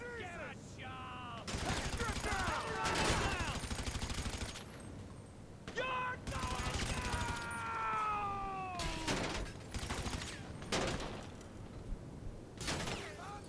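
Bursts of Vance SMG fire rattle in GTA V during a gang attack at Los Santos International Airport, several rapid volleys separated by short pauses, with a cat meowing and wailing in between.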